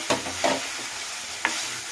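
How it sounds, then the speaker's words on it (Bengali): Spice masala frying and being stirred in a pan while cooking a soybean coconut-milk malai curry, with a steady sizzle and a few brief scraping stirs, close and alone. "ভালো করে মশলাটা কষাতে থাকবো।"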